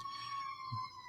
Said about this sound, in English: apologies if you can hear sirens in the background